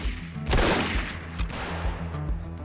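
Rapid gunfire in the tactical military shooter Project Reality during a survival games event, several loud close shots in quick bursts over a steady low battlefield rumble.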